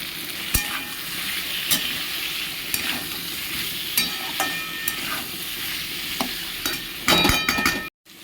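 Potatoes frying in a pan with poppy seed paste, mustard and spices, a steady close sizzle broken by scraping stirs of a spatula, louder clattering near the end; no voices.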